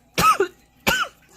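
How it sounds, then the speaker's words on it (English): Two sharp coughs, close and fairly loud, separated by a short pause, with a third starting at the very end. "Sorry for the coughs"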